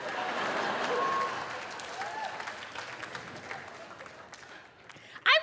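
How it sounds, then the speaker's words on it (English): Audience applause at a stand-up comedy special, loud clapping and cheering that swells early and then tapers to scattered claps, with a brief burst of voice at the end. "I'm waiting for you to clap"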